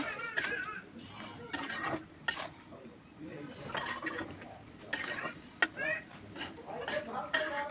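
Spiced bottle gourd with ground spices and cumin powder is stirred and sautéed in a pan, the spoon scraping and clattering in repeated bursts over a soft sizzle, close and fairly quiet.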